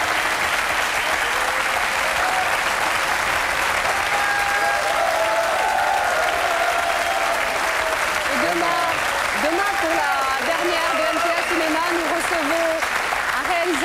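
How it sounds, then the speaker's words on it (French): A French television studio audience applauds actress Monica Bellucci with steady, dense clapping that fills the whole stretch at full loudness, while a voice talks over it and some faint melodic tones rise near the end. "On peut l'applaudir"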